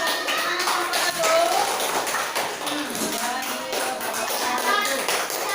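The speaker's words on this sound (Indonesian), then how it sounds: "Kasih tepuk tangan kelompok 1." Indonesian classroom applause for a student group, a dense patter of clapping hands that runs steadily through the whole stretch with some murmuring voices and shuffling mixed in.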